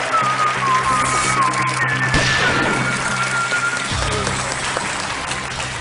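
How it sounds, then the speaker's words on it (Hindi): A studio audience on a KBC game show applauds to welcome the guest Abhijeet, a broad, steady wash of clapping mixed with thin tonal music and a few sharp hits, holding at an even level throughout. "आइए तालियों के साथ अभिजीत जी का स्वागत किया जाए"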